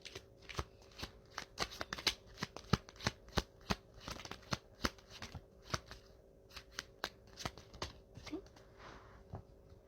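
Tarot cards are shuffled by hand close up, a quiet series of sharp riffling snaps and slaps in an irregular rhythm over several seconds.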